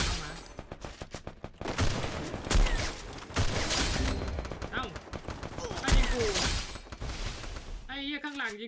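Rapid bursts of gunfire crackle through a shooter video game match, dense and continuous for several seconds before a sudden stop, with people talking excitedly over the shots.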